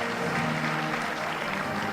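Standing ovation from a conference audience at AdAsia 2017 in Bali, a continuous wash of many hands clapping with a crowd murmur, steady and fairly loud throughout.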